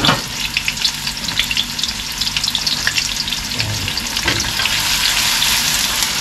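White onion frying in a pan for a goat dish, a dense, steady sizzle close by with stirring scrapes running through it, no voices.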